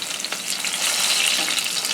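Ripe plantains, cooked from frozen, frying in a pan with a steady, close, crackling sizzle and no voices.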